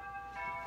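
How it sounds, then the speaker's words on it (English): A doorbell chimes indoors at a home, a short tonal ring with two bell-like pitches heard alone. "Who is ringing our doorbell?"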